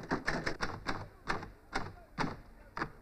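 An old mechanical typewriter with some sticking keys clacks in a run of about a dozen sharp, close keystrokes at an uneven rhythm, some in quick pairs and some after short pauses.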